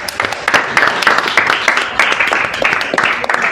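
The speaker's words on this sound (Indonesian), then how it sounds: "Tepuk tangan dulu." A class of students claps together in a classroom, a brief uneven burst of individual hand claps that rises and tapers over a few seconds.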